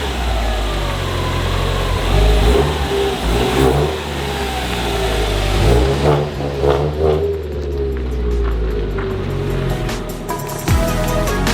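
A Subaru WRX engine runs while warming up, rumbling steadily up close and loud, then easing into an uneven lumpy idle with occasional small revs and rattles.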